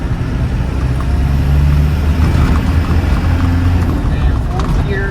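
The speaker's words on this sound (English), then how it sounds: "So let's go ahead and accelerate through third gear." 1993 Land Rover Defender 90 with a 200Tdi diesel accelerating through third gear, a dense, steady engine and road rumble heard from inside the cab, loud and continuous.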